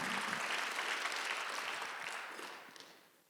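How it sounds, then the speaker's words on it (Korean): A church congregation at a Sunday worship service claps together in a dense, steady burst that gradually fades away over a few seconds. "박수 하세요."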